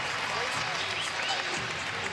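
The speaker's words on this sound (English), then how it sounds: "Crowd fired up." A college wrestling crowd cheers and applauds loudly during a Big 12 match, a brief, dense burst of clapping and shouting heard throughout the arena.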